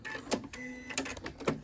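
A sewing machine runs a short back stitch on a bath mitt, giving a few quick close whirring bursts of needle motor at low volume, each separated by brief pauses.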